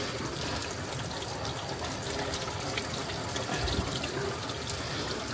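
Tap water running steadily at a rural grandparents' home, a constant rushing gush with no pauses, close and fairly quiet.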